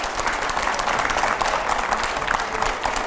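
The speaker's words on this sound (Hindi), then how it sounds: "पहले जोरदार तालियां हो" Studio audience on a Hindi TV talk show bursts into loud, steady applause, dense clapping sustained throughout with crowd noise and no pause.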